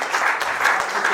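Congregation clapping in a church service, a short stretch of steady, fairly loud collective applause with rhythmic beats.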